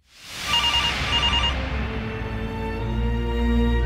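Telephone ringing in the video game Get Even: a bright repeating two-burst ring rises over a dense, resonant game soundscape, then gives way to a sustained tonal drone.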